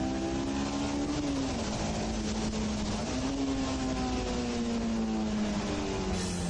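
A small Honda S2000 engine revs high, past 9000 rpm, and holds a sustained, whining pitch, dipping briefly and climbing again, loud and continuous.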